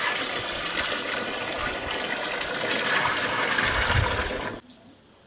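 Water pours steadily into a drum, a broad continuous gushing splash for several seconds before stopping abruptly near the end, part of making 100 litres of diluted sour buttermilk.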